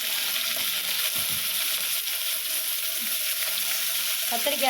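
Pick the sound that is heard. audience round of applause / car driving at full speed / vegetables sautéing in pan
vegetables sautéing in pan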